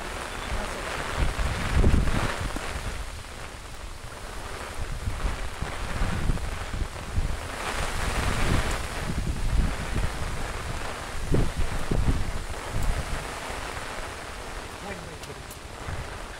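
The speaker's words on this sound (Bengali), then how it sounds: "অনেক পরিমাণ বাতাস আছে" Strong wind blows during rain outdoors beside water while shrimp are caught with bamboo traps, roaring and buffeting the microphone in uneven gusts throughout.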